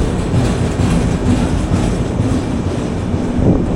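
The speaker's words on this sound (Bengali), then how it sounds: "এটা কিন্তু ইন্টারসিটি এক্সপ্রেস।" Intercity Express train 12744, a chair-car service running from Vijayawada to Gudur, rumbles past with steady, loud wheel and carriage noise and a faint clickety-clack rhythm throughout.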